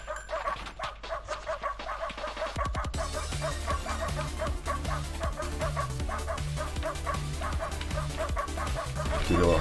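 A corgi barks and yips over the rhythmic music of the ProtoCorgi shoot-'em-up video game, with repeated short dog sounds rising through a busy, looping soundtrack.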